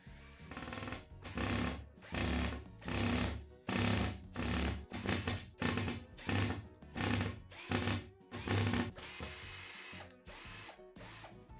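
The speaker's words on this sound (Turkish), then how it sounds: "Şimdi vidalarımızı artık lastiğimize monte ediyoruz." A power drill drives screws into a car tire in a rapid series of short bursts, about a dozen evenly spaced runs with brief pauses between, close and loud.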